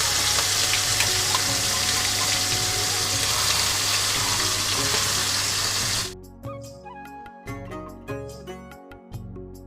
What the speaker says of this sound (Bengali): কড়াইতে তেল দিয়েছি তেলও গরম হয়ে গেছে এবার চিংড়ি মাছগুলো আমি একটু ভেজে নেব